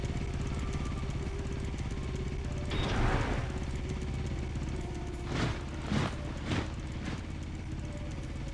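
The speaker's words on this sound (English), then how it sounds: "Motor half track heading there now." A motor half-track's engine in Company of Heroes drones steadily throughout, a constant mid-loud rumble with a few brief clattering bursts near the end.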